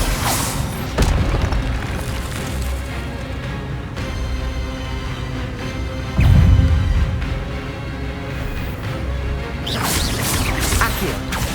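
A spell impact booms out in Hogwarts Legacy with a swooshing crash, one of several heavy magical blasts spaced across a loud game soundtrack, with a stronger burst midway.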